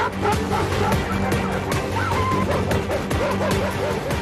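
Stray dogs barking in the streets of Karachi, repeated yips and barks amid crowd babble and traffic-like street noise, with a voice talking over the scene.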